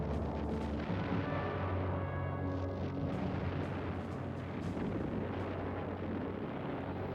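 Naval bombardment with artillery and machine gun fire on a coast, a dense, fairly faint rumble of booms and crackling bursts blending into a continuous roar.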